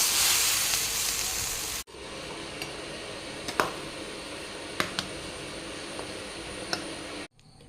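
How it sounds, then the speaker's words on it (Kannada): Tempering of mustard seeds, dry chilli, curry leaves and hing in hot oil, an intense bright sizzle that cuts off sharply, followed by a quieter steady hiss with scattered crackles and pops, close and without voices. "ಇನ್ನು ನಾನು ಇದಕ್ಕೆ ಒಗ್ಗರಣೆಯನ್ನು ಹಾಕ್ತೇನೆ ಎಣ್ಣೆ ಸಾಸಿವೆ ಒಣಮೆಣಸು ಕರಿಬೇವು ಹಾಗೂ ಹಿಂಗನ್ನು ಹಾಕಿದ್ದೇನೆ"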